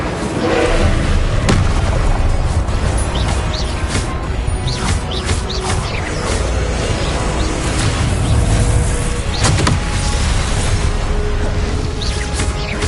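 Spell blasts in the video game Hogwarts Legacy: a dense, loud barrage of booming bursts and crackling impacts that continues without pause for the whole stretch.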